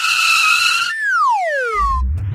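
A loud, close tire-and-brake screech rings as a sustained high whine, then sweeps sharply downward over about a second and ends in a low rumble, with no talk.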